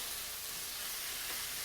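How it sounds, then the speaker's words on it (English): Chicken seasoned with paprika and spices sautés in a pan, a steady soft sizzle and hiss throughout, close and fairly quiet, with no talking. "This gets sauteed this way for a few seconds more"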